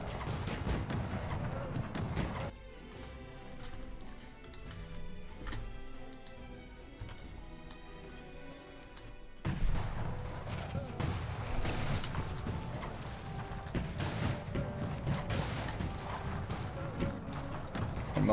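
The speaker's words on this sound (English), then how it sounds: "Most of them just being blasted to bits by multi-barrel cannons, by regular cannons." Multi-barrel and regular cannons fire in a Cossacks 3 battle, with dense repeated blasts and crackling volleys over a busy mix of music and battle noise, continuing under a narrating voice.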